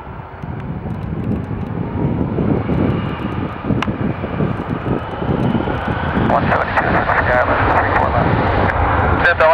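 A Scoot Boeing 777-200 jet taking off from runway 34 left: a steady, loud engine roar swelling as it builds, with a rising whine toward the end, under air traffic radio chatter.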